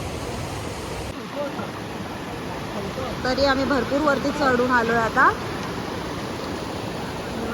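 Water from the Kalu waterfall rushes in a steady broadband roar, while a person speaks over it partway through.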